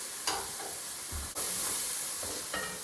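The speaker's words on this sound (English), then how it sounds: "I'm going to start scraping the bottom. Get all those flavors from the bottom." A spoon scraping the bottom of a chicken stew pot, a few distinct scrapes and knocks over a steady low sizzle, close and fairly quiet, no talking.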